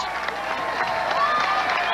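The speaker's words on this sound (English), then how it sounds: "a big round of applause" Applause and crowd noise fill a bowling hall for the finalists at the 1998 PBA Brentwood Classic, a steady dense clapping wash with some voices mixed in.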